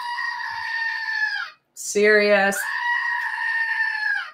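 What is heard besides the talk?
screaming goat toy and chicken toy sounds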